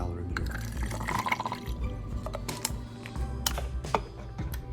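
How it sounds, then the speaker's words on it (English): 237 milliliters of water poured into a calorimeter, a steady trickling and splashing with scattered drips and clicks, fairly close and moderately loud. "I take 237 milliliters of water and pour it into my calorimeter."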